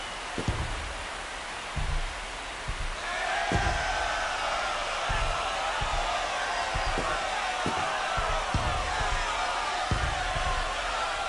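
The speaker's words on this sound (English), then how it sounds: "The crowd is going crazy after that swing." A stadium crowd in an MLB baseball video game roars after a home run, a steady wash of cheering that swells partway through, with repeated sharp thuds punctuating it.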